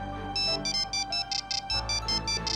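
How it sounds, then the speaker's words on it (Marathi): A phone ringtone chimes with an incoming call, a bright repeating pattern of rapid electronic tones pulsing in regular bursts, loud and close, with no talking. "फोन आला, मी 1 मिनिट आले."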